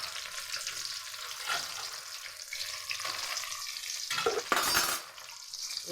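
Crushed garlic with dried and green chillies fries in a pan with a continuous close sizzle. A spoon stirs through it in rhythmic scraping swells, and a brief louder burst comes near the end.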